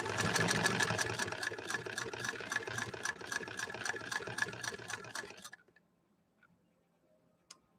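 A 1925 Singer 128 sewing machine stitches with a steady, fast ticking clatter for about five seconds, then stops, leaving near silence with a faint click.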